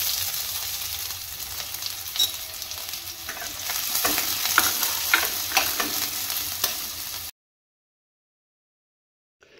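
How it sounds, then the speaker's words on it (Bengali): Green chillies, chopped garlic, ginger and onion hit hot mustard oil in a pan and fry with a loud, dense, continuous sizzle and crackle, with stirring scrapes, before cutting off abruptly to silence. "এবার আমি এখানে দিয়ে দিচ্ছি কাঁচা লঙ্কা, রসুন কুচি, আদা কুচি, পেঁয়াজ কুচি।"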